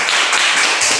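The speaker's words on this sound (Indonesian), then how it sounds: "Kita berikan tepuk tangan dulu." A classroom group claps together, a short burst of close, continuous applause filling the whole second.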